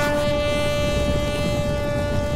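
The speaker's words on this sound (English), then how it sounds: "God damn, that horn is loud as fuck." Loud, sustained war horn in Mount & Blade Warband, blaring a steady tone that signals a cavalry charge over rumbling battle noise, unbroken for the whole stretch.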